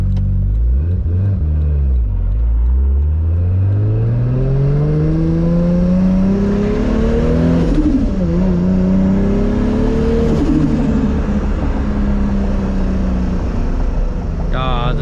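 A Toyota Supra's engine revs and accelerates on the road, pitch climbing steadily through gears with a loud, close exhaust drone and a brief dip as it shifts, with no voices over it.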